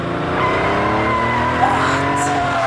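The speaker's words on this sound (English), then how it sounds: "A car. The greatest car." A car drives with tires squealing, a loud skidding screech with shifting engine tones that sweep and bend, close and continuous, with a short sharp burst near the end.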